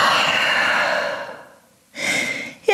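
A long, loud breath drawn in and slowly released during a downward dog yoga pose, followed by a short pause and a second quicker breath, close and alone.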